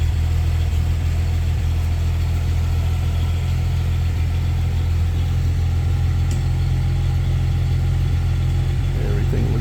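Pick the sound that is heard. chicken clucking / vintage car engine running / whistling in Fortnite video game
vintage car engine running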